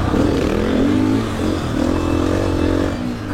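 Off-road motorcycle on a 100-metre sand dune, its engine revving loud and close with rising and falling pitch across a few throttle pulls, no talking over it.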